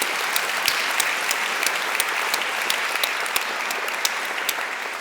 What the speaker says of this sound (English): everyone would agree and give you a round of applause for